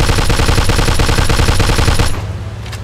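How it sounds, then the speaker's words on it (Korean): A newly acquired gun fired in the video game Mafia 2, a loud, close rapid burst of automatic gunfire lasting about two seconds, then cutting off into a fading echo. "새 총은 테스트 해봐야지."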